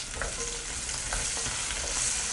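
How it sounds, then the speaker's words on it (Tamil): Steady sizzling of shallots and garlic frying in a pan, a broad hiss with occasional stirring scrapes and pops, close and continuous. "இது நல்லா ஃப்ரை பண்ணிக்கலாம்"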